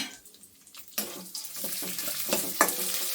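Mustard seeds with curry leaves frying in hot oil for Melukote puliyogare gojju, a soft hiss that swells suddenly into a steady, close crackling sizzle with a sharper pop near the end.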